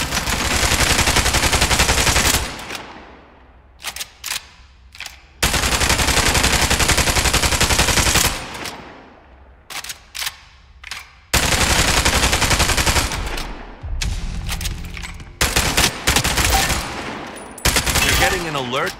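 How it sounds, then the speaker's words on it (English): Loud automatic gunfire from shooting enemies in the Spectre Divide tutorial comes in long sustained bursts separated by short gaps and a few single shots, close and dominant. "Shoot the enemies as they appear."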